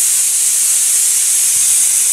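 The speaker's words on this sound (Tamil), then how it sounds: "இப்போது இந்த குக்கர் 3 விசில் கொடுத்துருக்குங்க." A pressure cooker on a stove lets off a steady, loud hiss of escaping steam for about two seconds, with no voices.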